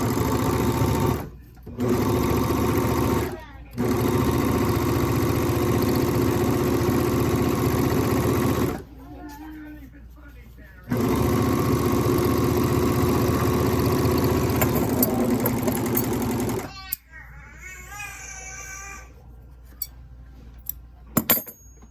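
An overlock serger sewing machine stitches fabric in long, fast, whirring runs, stopping briefly several times and then running again close up, before a quieter stretch with light clicks.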